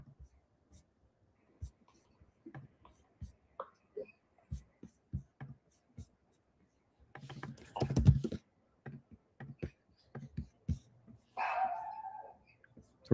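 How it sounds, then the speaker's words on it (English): Small dogs bark in short bursts somewhere in the background of a quiet room, mixed with scattered soft clicks and faint whispery noises. "Little dogs barking"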